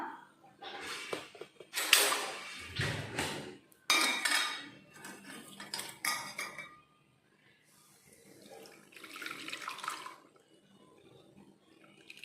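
Cooled natural hair dye mixture is poured through a strainer in bursts of splashing liquid, with clinks of metal utensils and a quiet pause before more trickling.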